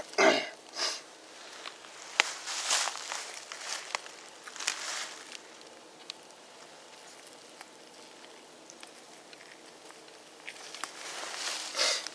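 A person with a cold sniffles several times outdoors while field dressing a deer on a chilly day, with short nasal sniffs spaced across the stretch and faint rustling between them.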